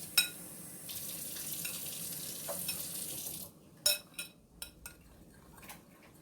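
Hot water pours into a hot pan holding McCormick and Piggly Wiggly fajita seasoning mix, giving a bright hissing, sizzling rush for several seconds before it cuts off and a few clinks and stirring knocks follow.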